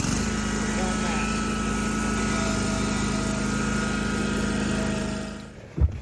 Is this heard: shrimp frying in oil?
no